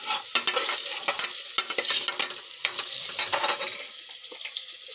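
Onions frying in a pan as turmeric goes in, a close, bright sizzle with scraping stirs and rustling bursts layered over a continuous hiss, fairly loud and unbroken by talk.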